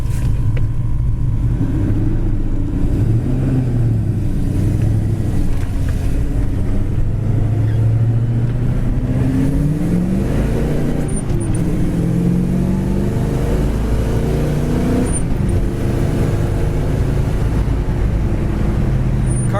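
A 1972 Chevy Chevelle Super Sport 454 with a four-speed drives along, its deep engine rumble rising and falling as it accelerates through gears, heard loud and close from inside with steady road noise and no talking.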